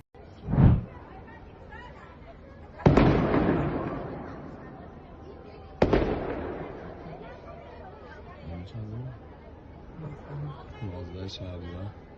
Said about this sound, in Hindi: वेस्टर्न ईरान में हुआ है बड़ा धमाका।